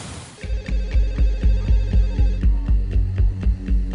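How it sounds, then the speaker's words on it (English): A telephone rings late at night in a home in Bhopal: a loud, steady run of repeated electronic rings in an even rhythm that starts abruptly and continues throughout, with no voices. "a late-night phone call wakes Dr. Bandari"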